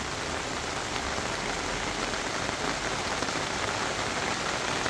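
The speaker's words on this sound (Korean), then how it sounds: "아주 비가 오니까" Steady rain pours down on a farm, a dense, even hiss of drops striking surfaces that stays loud and constant throughout with no other sounds.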